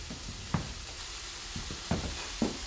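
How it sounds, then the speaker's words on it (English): Garlic and onions sizzle in a hot pan, a steady close frying hiss broken by a few soft stirring knocks. "Just going to add the garlic. And the onions."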